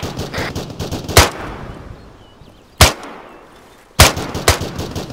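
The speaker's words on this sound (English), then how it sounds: "Sounds like some heavier fire coming south-southwest." Heavy gunfire in the ArmA 3 military shooter game: bursts of rapid shots and three sharp, loud booming reports ring out over a rumbling battlefield background, with no voices.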